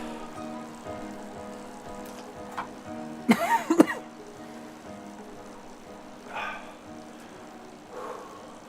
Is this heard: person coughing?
yes